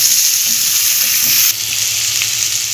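Potatoes stir-fried with garlic, onion and bay leaves in a pan give a loud, continuous close sizzle with light stirring knocks, the hiss dipping slightly partway through; no one speaks.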